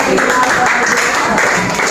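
Classroom students clap together during an on-the-job teaching session, a loud, close, somewhat muddy round of hand clapping with voices mixed in underneath.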